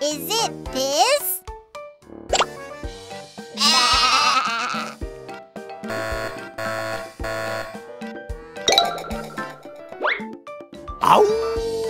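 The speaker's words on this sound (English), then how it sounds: "Was the sound of a sheep with fluffy fur." Wavering sheep bleats ring out several times in a bright children's animal song, set among music, jingles and childlike voices.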